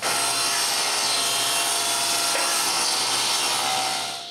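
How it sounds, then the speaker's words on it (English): A table saw rips wood strips to rip-fence width, a loud continuous whining cut held steady for several seconds before the blade sound begins to fade. "Then I ripped 2 strips to the same width of my rip fence"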